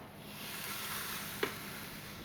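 A steady broadband hiss of New York strip steaks sizzling in a hot Ninja Foodi cooker, constant and close, with a single faint click partway through.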